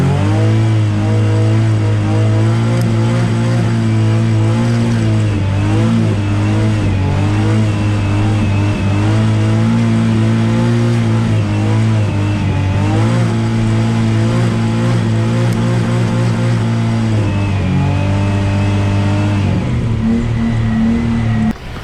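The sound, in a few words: Nissan 350Z engine near rev limiter while drifting in first gear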